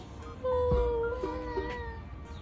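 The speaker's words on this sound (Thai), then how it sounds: "แมวร้องไง" A cat gives a short, nearby meow, a single rising and falling cry with a softer second call after it, over faint room noise.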